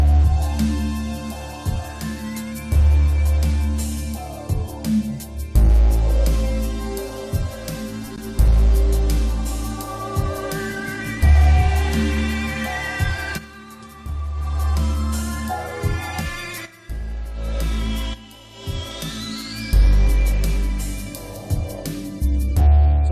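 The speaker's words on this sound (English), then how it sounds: "Everything you're hearing here is actually generated apart from the drums in real time using the wave junction" Dense synthesizer music generated live on a Wave Junction, with layered tones, shifting pads and bright arpeggiated lines over a programmed drum beat, loud and continuous with no talking.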